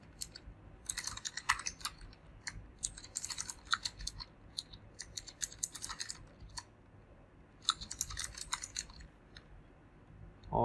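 Computer keyboard typing in bursts of rapid clicking keystrokes with short pauses between, fairly close and alone, while text is entered during web coding work.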